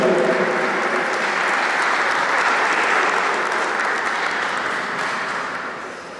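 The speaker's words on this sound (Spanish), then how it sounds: "Un fuerte aplauso para él y la más cordial bienvenida a nuestra ciudad." An audience at an engineering forum in Ecuador applauds a welcomed civil engineer: steady, dense clapping fills the room at full strength for several seconds, then begins to thin and fade toward the end.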